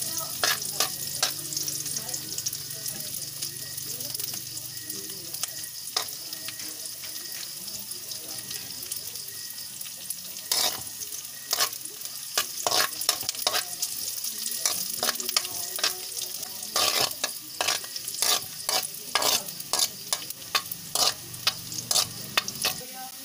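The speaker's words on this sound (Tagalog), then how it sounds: "At saka sibuyas, mga boss. At halu-haluin lang natin." Onions sauté with seafood in a pan while being stirred, a soft sizzle running under scattered utensil scrapes and clacks that grow busier toward the end, with running water in the background.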